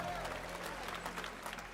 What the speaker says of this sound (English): There was some cheering in the crowd.